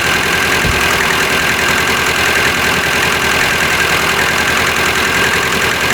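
A car engine, a swapped-in C1J, idles steadily and loudly up close, a constant rough hum with a fine vibrating rattle and no speech.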